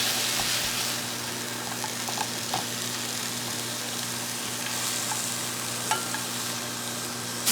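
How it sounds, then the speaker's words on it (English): Chili ingredients sauteing in a pan with oil-free cooking: a steady, even sizzle fills the whole stretch, with a few faint clicks of stirring over the top. "And I will saute this and add some spices."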